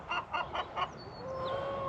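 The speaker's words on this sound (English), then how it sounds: "chickens are loud." Chickens give four quick, evenly spaced clucks, fairly faint and close together, followed by a few thin higher calls trailing off.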